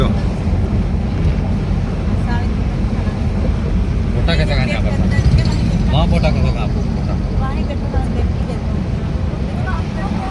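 Sea and wind at the Bet Dwarka bridge in Dwarka during rainy weather, a steady loud roar of wind buffeting the microphone over surf, with someone speaking intermittently throughout.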